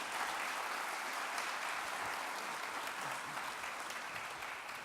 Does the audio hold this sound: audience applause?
yes